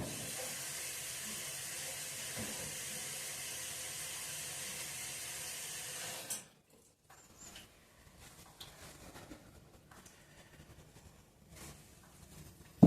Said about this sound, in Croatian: Ja ću sad opet operem ruke.